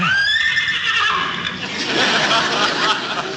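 A voice imitates a horse's excited whinny, a loud, high, quavering neigh that falls in pitch, followed by rougher, noisy vocal sounds close to the listener.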